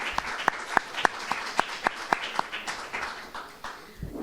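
Audience at a book presentation of war poems clapping, a run of distinct, fairly sharp claps in an uneven rhythm that thins out and fades toward the end.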